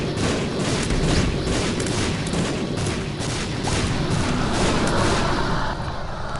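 Constant explosions in the video game The Binding of Isaac pile into a dense, loud, roaring wash with little gap between blasts, sustained through the whole stretch at close range.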